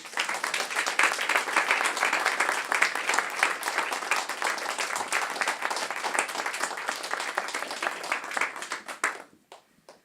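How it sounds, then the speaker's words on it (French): Audience in a small, intimate venue applauding the author of the evening's play after a staged reading with period music; sustained, dense clapping for about nine seconds that thins out and stops near the end. "on l'applaudit, Gérald"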